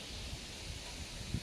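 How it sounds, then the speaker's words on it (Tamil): Wind moving through trees near a hilltop temple above a river, a soft continuous airy rustle with faint leafy movement throughout and no voices. "மரங்கள் எவ்வளோ கலந்து காற்று நடக்குதுன்னு தெரியுது."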